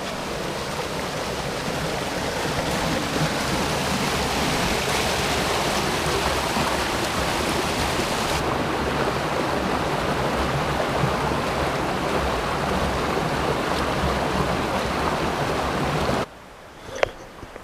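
A river flows by a tent campsite, giving a steady, loud, close rush of running water that continues for most of the stretch. It then cuts out to quiet near the end, where a faint short sound is heard.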